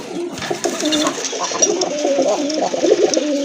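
A native desi pigeon, an old local breed in red and white, coos in repeated low throaty phrases close by, with faint background noise and no talk.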